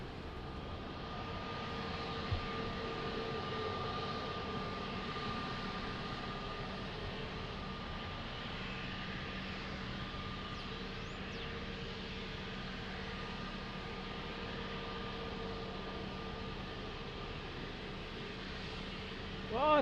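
A Boeing 777 airliner at Lisbon Airport gives off a distant, steady jet engine roar with a faint whine, continuous and low in level.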